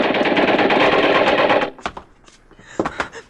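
Gunfire erupts in a classic sci-fi film scene: a loud, dense burst of rapid shots lasting over a second, then scattered sharp cracks and shouting-like bursts afterward.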